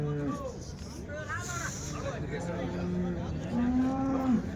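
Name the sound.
cow mooing at a cattle market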